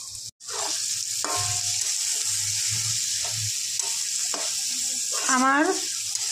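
Spices including shahi jeera sizzle in hot oil in a pan, a constant bright hiss broken by scraping stirs, with a few faint voice fragments mixed in.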